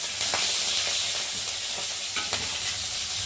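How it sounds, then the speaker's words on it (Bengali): Spice paste of ginger, green chili and tomato frying and being stirred in a pan, a constant bright sizzle with scraping strokes from a utensil, close up and with no talking. "পরিমাণ মতো নুন দিয়ে মশলাটা ভালো করে কষিয়ে নেব"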